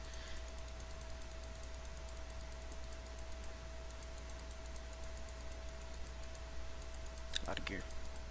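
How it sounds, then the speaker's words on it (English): A computer mouse is right-clicked over and over in the Wildstar game, faint light ticks repeating steadily over a constant electrical hum, ending in a brief brighter clatter. "So I just right click and just keep right clicking until it's all done."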